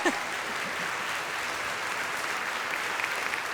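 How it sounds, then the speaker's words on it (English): An audience at a live classics talk breaks into steady clapping, a moderately distant, even wash of applause throughout. "Oh, clapping."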